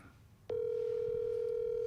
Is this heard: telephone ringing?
yes